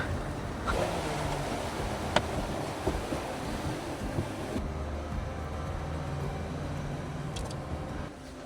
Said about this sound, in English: We're driving through the river.